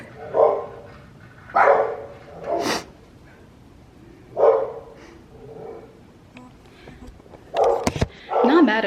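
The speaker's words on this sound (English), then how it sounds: "those dogs are always barking outside" Two pit bull dogs outside let out a series of deep barks in separate bursts with pauses between them, fairly close and clear.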